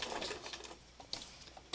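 A sewing machine stitches a spiral through small fabric scraps, a quiet steady mechanical whir with light tapping pulses and brief stops, close by.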